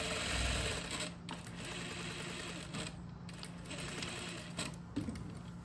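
A sewing machine runs in a quiet room, stitching a straight seam with a continuous rapid mechanical patter broken by a few short pauses and clicks.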